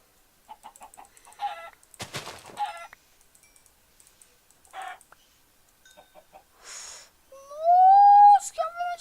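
Chickens cluck in the video game Minecraft with short, scattered calls among sparse in-game sounds, quiet pauses between them and a longer, louder squawk near the end.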